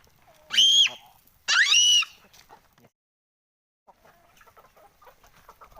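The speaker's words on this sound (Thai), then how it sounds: "นี่นะครับไก่น้อยไก่หนุ่มๆของเรา" Two loud, close calls from young fighting roosters ring out one after another, followed by quieter clucks and scratchy shuffling.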